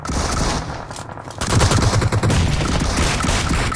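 Dense, loud automatic gunfire rattles continuously in the PUBG video game, fired from long range. Sustained bursts continue with no pause.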